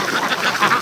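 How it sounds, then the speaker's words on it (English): A flock of ducks by a cold lake quacks in a dense, overlapping chorus, loud and close throughout the brief moment. "These ducks, they love the water."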